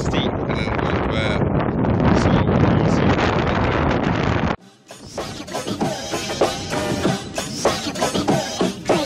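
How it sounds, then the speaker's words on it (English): Strong wind buffeting a microphone on a steep beach sea wall, loud roaring gusts that cut out sharply midway before resuming as lighter rustling blasts, with no talk. "Windy out."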